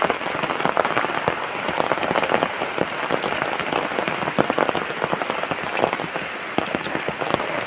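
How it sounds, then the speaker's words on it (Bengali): Heavy rain spatters down through big tree leaves, a dense, steady patter of fat drops hitting foliage and ground nearby, continuous and fairly loud with no voices. "ভালোই বৃষ্টি হচ্ছে।"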